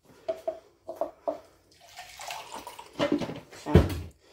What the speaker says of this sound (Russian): Теперь я наливаю воду себе.